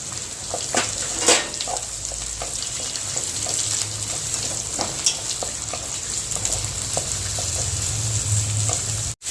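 Capsicum sautés in a pan of tempering for vermicelli, giving a steady close sizzle with intermittent light stirring clicks and a faint watery hiss.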